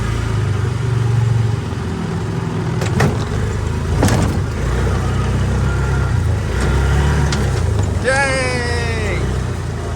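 A Polaris four-wheeler engine drones steadily through a test ride, its low rumble constant beneath brief clicks and clunks, with a short whistle-like sweep near the end.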